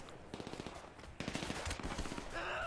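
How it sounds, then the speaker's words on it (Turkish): Gunfire in GTA 5: quick bursts of automatic shots in rapid rhythmic strings, a short gap, then more sustained firing, moderately loud and without voices. "Biri daha vuruyor."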